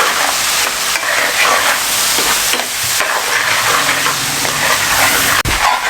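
Spices frying in a pan for fish biryani, a steady close hiss and sizzle with light stirring scrapes running throughout, brief pause near the end.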